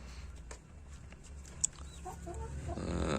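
Chickens clucking softly in their coop, a few short scattered calls over a low background rumble, fairly quiet and without voices.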